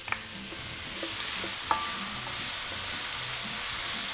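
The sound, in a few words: shallots cooking in pan with guanciale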